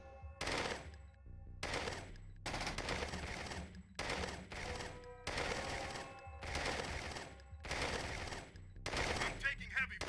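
Machine gun fire in the real-time strategy game C&C Tiberian Sun, heard as a string of evenly spaced loud bursts, each lasting about half a second to a second, under a steady low game hum.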